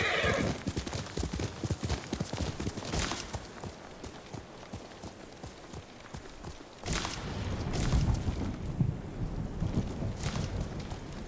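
A horse in the video game Ghost of Tsushima clip-clops at a steady gallop, hooves drumming loud and close, with a whinny breaking in amid rumbling thunder and falling rain.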